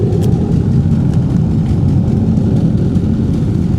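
A Shelby Cobra 427 idles through its exhaust with a steady, close, loud low rumble that holds without a break.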